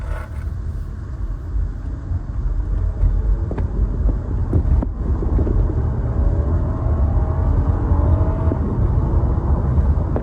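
A 2007 Acura RL accelerating at full throttle, heard from inside as a steady, loud low engine rumble that builds with the revs and breaks briefly at a gear shift.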